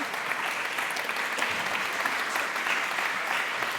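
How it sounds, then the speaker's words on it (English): Audience at a European defence and security summit applauding a speaker, a dense, even wash of clapping that holds steady throughout without a break. "Oh, you can take the applause."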